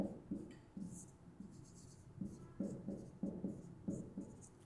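Pen writing a math expression on paper, a close series of short scratchy strokes in irregular bursts, quiet and alone.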